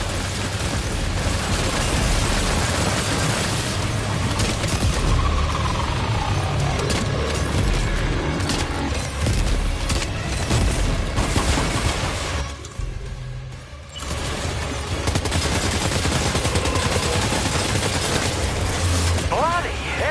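Dense gunfire and explosions in the video game Death Stranding 2 roar in a continuous loud barrage, with a brief drop in the middle, mixed with game voices and music.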